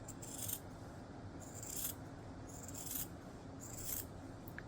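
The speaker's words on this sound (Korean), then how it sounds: "여기는 조심해서 잘라줄게요. 여기 바느질이 잘리지 않게" Scissors snip through fabric around a sewn cloth doll body in four regular, evenly spaced cuts, close and crisp over a faint steady background, with no voices.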